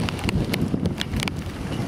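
Wind from a hurricane at night in Long Beach, New York, buffets the microphone in close, rumbling gusts, with a few brief rattling clicks over the low roar.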